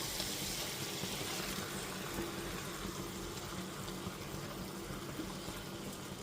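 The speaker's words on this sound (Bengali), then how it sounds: "এরপর এতে সেদ্ধ করে নেওয়া ছোলার ডালটা দিয়ে দিচ্ছি।" Boiled chana dal is tipped into a pan of spiced masala with fried potatoes, giving a soft continuous wet sizzle and bubbling at low volume.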